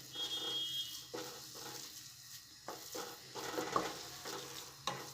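Urad flour roasting in a pan over a low flame gives a soft, faint sizzle broken by scraping stirs at an irregular rhythm, with no voices.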